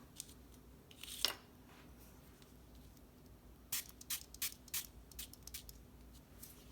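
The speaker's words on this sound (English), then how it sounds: "I just did a couple light spritzes of water on top of the snowflakes" Several quick, light spritzes of water from a spray bottle onto a paper envelope, one early and a cluster of short bursts later, faint against a quiet room.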